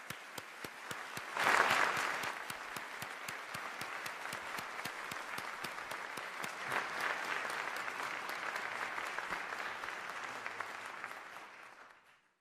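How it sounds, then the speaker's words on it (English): Audience applause at a speech in the Holocaust Museum, a crisp burst of many hands clapping that swells quickly, holds steady in a large room, then fades out at the end. "And let's give them a round of applause."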